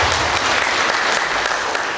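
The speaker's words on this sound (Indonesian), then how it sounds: "Tepuk tangan untuk Tuhan Yesus." A church congregation in Biak, Papua, gives a burst of sustained, dense applause that fills the space evenly for about two seconds.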